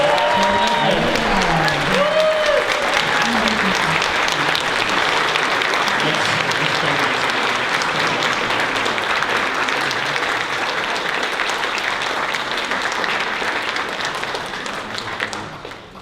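Loud, sustained audience applause at a fan convention panel for a guest's entrance, a thick continuous wash of clapping from a large crowd that holds steady before slowly tapering off at the end.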